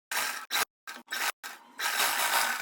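Sewing machine running in short bursts while stitching a fabric strip onto a kurti, with several quick stop-start runs of mechanical whirring and a longer steady run at the end, close and fairly loud.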